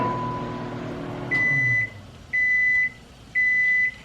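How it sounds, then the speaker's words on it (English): Three evenly spaced electronic beeps from a rice cooker signalling the rice is done, each a steady high tone lasting about half a second, sounding clearly over a faint background hum. "It sounds like our rice is done"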